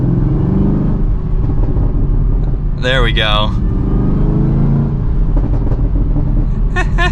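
A supercharged V8 in a 2023 Chevrolet Camaro ZL1 revs once in a short, rising exhaust blip over a steady idle rumble, with someone talking briefly before and after.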